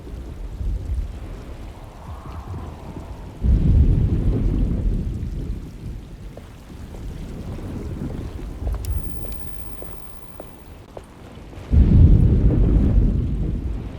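Stormy weather in the video game Alone in the Dark: steady rain hiss with two heavy rumbles of thunder swelling low and loud, plus faint scattered clicks, no talking.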